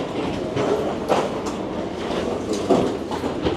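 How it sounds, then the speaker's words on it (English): A passenger train in Thailand moving along the rails, a steady loud rumbling rush with clacking wheel beats close by, no talking. "It is our train."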